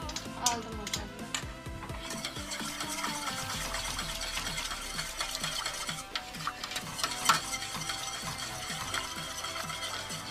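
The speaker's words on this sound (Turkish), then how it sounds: "biraz karıştıracağım" A spoon stirs kelle paça soup broth in a pot on the stove, with steady scraping and clinking close up against a continuous hiss of heating liquid.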